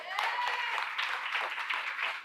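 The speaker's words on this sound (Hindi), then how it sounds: "एक जोरदार तालियां होनी चाहिए" Applause from an audience at a motivational leadership speech, a steady dense wash of many hands clapping that holds at an even level throughout with no talk over it.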